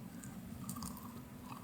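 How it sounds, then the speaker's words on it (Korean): A person chews food while camping on Biyang Island off Jeju, making faint, close, moist chewing and squishing sounds over a low steady rumble, with no talking. "아니야, 소리 내지 말고 그냥 씹어."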